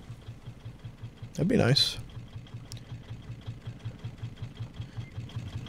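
A boat's engine idles with a steady, rhythmic low chug in a video game, continuing under a brief burst of noise and a short spoken remark.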